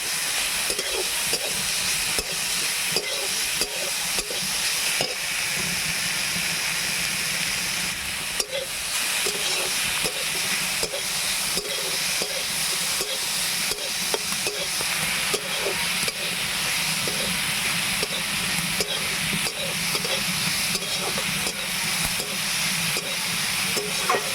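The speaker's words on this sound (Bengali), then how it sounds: "দেখো চিংড়িটা প্রায় ভাজা ভাজা হয়ে গেল" Small shrimp frying in a pan while being stirred, giving a continuous hiss and sizzle with regular scraping strokes of the spatula, close and steady, with no talking.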